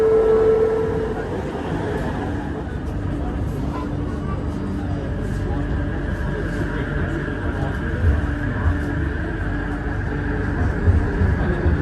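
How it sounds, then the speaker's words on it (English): A train pulls into a station in Malaysia on the Kuala Lumpur line toward KL Central, giving a steady, fairly loud rumble that holds throughout, with a brief tonal hum near the start. "Here comes the train."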